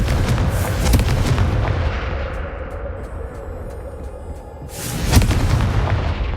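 Confringo explosive spell cast in Hogwarts Legacy, a loud booming blast with a dense crackling burst that fades and then erupts again in a second heavy explosion, no voices.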